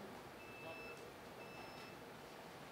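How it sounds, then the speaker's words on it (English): Faint electronic beeping sounds twice in steady tones, far off and quiet beneath a broad background hiss, resembling a vehicle's reversing alarm. "Something's beeping there."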